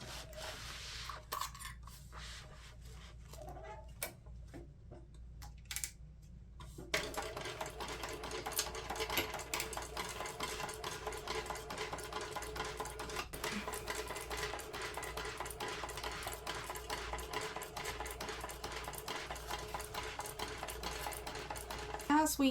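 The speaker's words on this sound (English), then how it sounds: "I'm going to stitch down at a 1/2 inch seam allowance all the way around." Sewing machine stitching a seam around a messenger bag with the gusset side up, a quiet steady mechanical whirr after a few short starts, with faint voice underneath.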